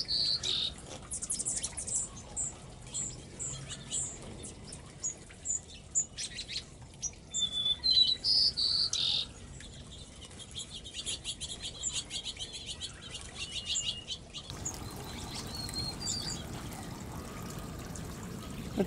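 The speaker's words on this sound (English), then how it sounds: "I don't want to talk too loud and disturb the birds" Wild birds at garden feeders stocked with lettuce, peanuts, sunflower seed, pigeon mix and parakeet mix, faint scattered chirps and tweets outdoors with one clearer burst of song midway, over soft steady ambience, no talking.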